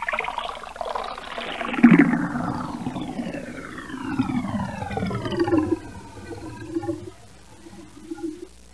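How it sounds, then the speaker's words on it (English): Petrol pours into a toilet bowl in a steady liquid stream whose tone sweeps and shifts as the bowl fills, heard close and alone with no talk. "I will put Petrol in the toilet"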